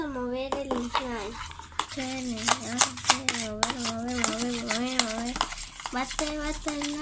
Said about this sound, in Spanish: Vamos a mover el slime.